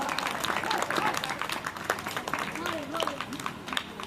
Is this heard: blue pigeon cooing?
no